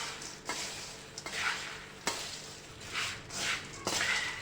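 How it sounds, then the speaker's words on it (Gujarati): Dhani mamara chevdo, puffed rice and popped sorghum with spices, being stirred and tossed in a pan: a steady dry rustling with several sharp scraping strokes, close and alone with no voices. "એકદમ સરસ એવું મિક્સ કરી લેવાનું છે."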